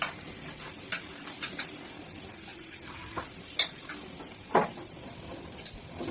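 A steady, soft sizzle of food frying in a pan, broken by a few sharp clicks and scrapes of a utensil stirring, with no voices.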